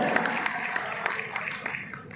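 Seminar audience claps together in a brief, even burst of applause that holds steady and then eases slightly.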